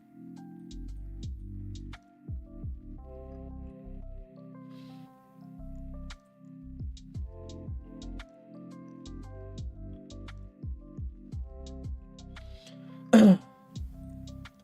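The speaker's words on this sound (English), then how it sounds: "I don't know why I'm coughing still" A man coughs and clears his throat repeatedly, a string of short rough bursts and gravelly rasps spread across the stretch, close to the microphone, with one sharper louder cough near the end.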